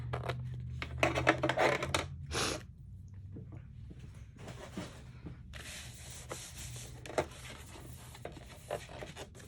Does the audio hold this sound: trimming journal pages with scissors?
yes